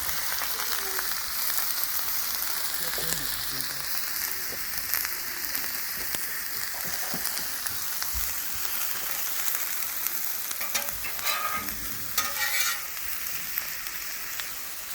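Food frying on an oiled, slightly unlevel griddle gives a steady sizzle and crackle, with a few sharper utensil clatters near the end.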